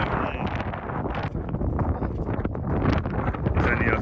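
Strong wind on the north face of Ben Nevis buffets the microphone in heavy, rumbling gusts, a continuous roar that stays loud and close throughout.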